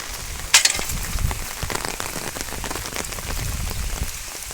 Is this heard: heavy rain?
yes